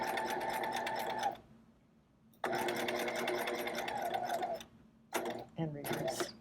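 Sewing machine stitching an inseam buttonhole in short close bursts, a rapid whirring run, a pause, another long run, then brief stop-start spurts with clicks of the needle and presser foot between.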